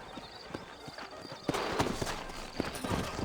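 Horse hooves clip-clop in Red Dead Redemption, a run of close, steady hoofbeats under game ambience that grows louder and busier midway.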